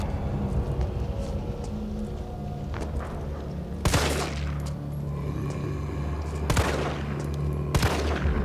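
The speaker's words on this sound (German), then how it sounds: "Ich bin mal gespannt, wie das Schießen jetzt ist." Gunfire from the Resident Evil 3 Remake video game, a few sharp, loud shots at scattered moments over a steady game background rumble and ambience.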